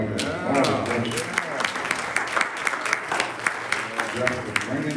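A church congregation applauds in a steady, moderately loud patter, with a few sharper individual claps standing out, while a voice speaks over the clapping.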